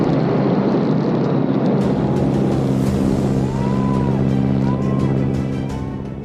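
An aircraft touching down well short of the runway makes a loud, continuous roar of engine and rumble, with steady low drones and a few rising whines that fade toward the end.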